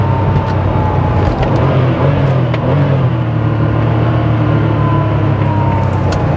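A 1988 Porsche 911 Targa engine pulls steadily and loudly from inside the moving car, with a continuous low drone and rising revs as it accelerates over road noise.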